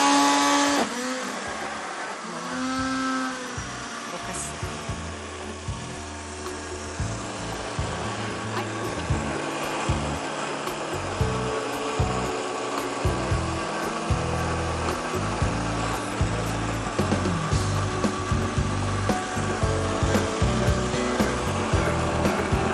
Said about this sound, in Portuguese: Só bater no liquidificador.